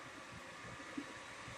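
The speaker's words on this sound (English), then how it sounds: "they've decided to vacuum the corridor of my apartment building right outside" A vacuum cleaner runs in the apartment building corridor outside, heard as a faint, muffled, steady drone through the walls.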